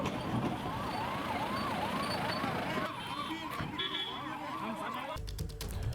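Wailing police vehicle and ambulance sirens at an airport during an emergency response, several overlapping rising-and-falling tones heard at moderate distance, ending with a louder burst of noise.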